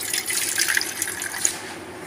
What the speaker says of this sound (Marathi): ह्याच्यातलं जे पाणी आहे ना सगळं काढून घ्यायचं आहे आपल्याला